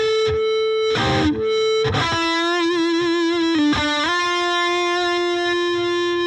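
Distorted electric guitar played through a BluGuitar Amp1 with the noise gate switched off, loud sustained notes and bends with a few choppy strummed bursts between them, no voice.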